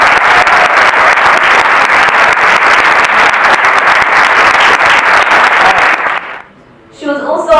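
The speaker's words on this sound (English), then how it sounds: "So without further ado, let's clap for Amina Hamid." An awards ceremony audience claps steadily for several seconds, dense and continuous, before fading out; a voice begins speaking right after.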